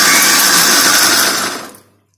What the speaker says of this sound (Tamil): இப்போ நம்ம இதை நல்லா கிரைண்ட் பண்ணிடலாம்